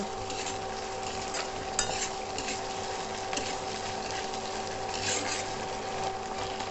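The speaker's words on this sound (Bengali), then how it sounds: "এবার এর মধ্যে দিয়ে দিচ্ছি সসের মিক্সচার সসের সাথে ভালো করে এগুলোকে মিলিয়ে নেব" Fried cauliflower for Gobi Manchurian being stirred into a sauce mixture in a pan, with a continuous close scraping and sizzling churn under a steady background hum.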